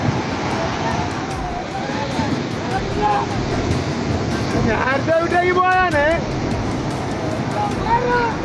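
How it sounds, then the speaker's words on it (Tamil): Big ocean waves roll and crash as fishermen drive a boat out against the sea, a loud, continuous roar of surf with wind buffeting, and a voice talking over it in the middle. "ஒரு படகை எப்படி மீனவர்கள் இந்த கடல் அலையை எதிர்த்து கொண்டு போறாங்கன்னு பாருங்க"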